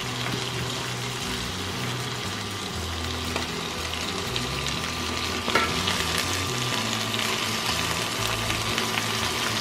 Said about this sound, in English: I'm gonna go ahead and put the collards in. They will cook down.